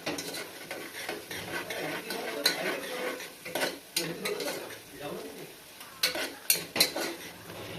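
Onions fry in oil in a pan while a spoon stirs them, giving a soft background sizzle and irregular clinks and scrapes of metal on the pan, some louder near the end, with faint speech at times.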